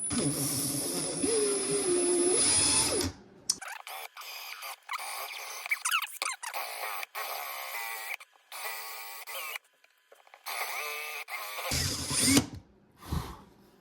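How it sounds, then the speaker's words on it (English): A loud, steady power drill whines for about three seconds near the start while boring a large hole in a small piece of wood, then stops; quieter handling noises and brief talk follow, and a short burst of drilling returns near the end. "I'm gonna drill out this hole, which is almost as big as the piece of wood itself"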